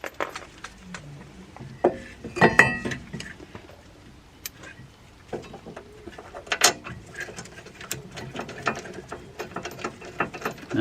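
A ratchet clicks in quick rapid bursts while the brake caliper bracket is bolted back onto a BMW, close and fairly quiet, with light metallic clatter between the bursts and no talking.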